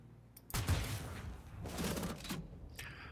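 A single gunshot from a powerful firearm, fired outdoors in daylight: a loud sharp blast followed by a rolling echo that fades over a couple of seconds.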